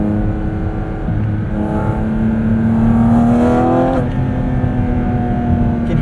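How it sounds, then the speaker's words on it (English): A 2023 Porsche 718 Cayman GT4 RS with its mid-mounted engine right behind the cabin revs loudly, its tone climbing and then holding steady, heard up close from inside the car. "What a noise these RS cars make."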